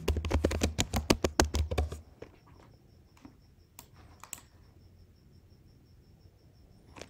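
A command is typed on a computer keyboard at a terminal, a fast close burst of clicking keystrokes for about two seconds, then a few sparse taps over a quiet background with a faint steady insect-like chirp.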